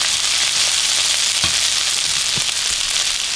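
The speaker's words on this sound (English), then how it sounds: "Now, I'm just going to start adding this rice in here." Rice is added to okra sizzling in bacon grease, making a constant loud frying hiss with a couple of soft stirring knocks and no talking.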